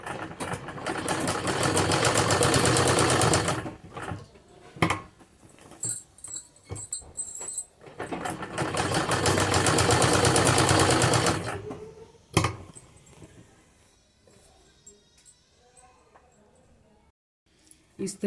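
A sewing machine stitches a curving patti leaf design on a sleeve cuff, running over an earlier seam in two loud sustained bursts with quieter pauses between them, where a voice speaks.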